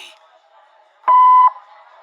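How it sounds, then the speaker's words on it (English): A single clean electronic voicemail beep, about half a second long, sounds after faint background noise. "leave a message after the beep"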